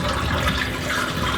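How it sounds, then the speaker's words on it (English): Cold water running steadily into a bowl of acorn flour as it is added and mixed, a continuous close splashing rush with no talking. "And then I'll add fresh cold water, mix it all up"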